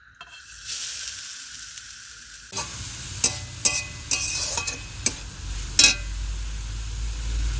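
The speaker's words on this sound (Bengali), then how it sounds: "নারকেল কুড়াটা এখন আমি কড়াই দিয়ে দেবো" A dry sizzle of grated coconut in a hot wok with a scraping spatula; several sharp stirring scrapes punctuate the steady frying hiss.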